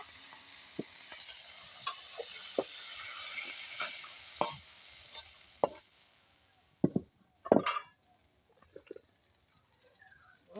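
Fresh spinach greens hit a hot pan in a village kitchen, giving a soft sizzle with scattered sharp crackles and stirring clatter, louder pops toward the end, no voices.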